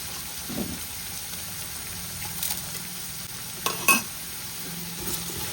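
Green chilies and onions fry in hot oil with a steady, soft sizzle, broken by a few light clinks and scrapes of stirring at close range.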